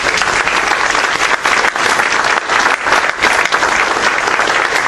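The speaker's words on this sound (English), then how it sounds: "if you give them all a round of applause." A loud, dense round of applause from an audience at a high school press conference, thanking the football coaches; steady, sustained clapping with no talking over it.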